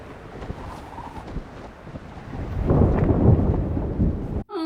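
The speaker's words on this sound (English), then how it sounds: "Oh no, it's thundering." Thunder rumbles low and builds into a heavy rolling crash, loud and sustained over steady background noise, ending in an abrupt cut.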